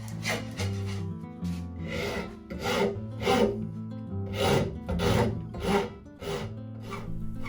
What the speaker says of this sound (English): I'm using a rasp just to show you how that goes